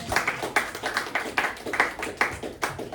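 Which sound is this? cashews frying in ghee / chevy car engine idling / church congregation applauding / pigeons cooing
church congregation applauding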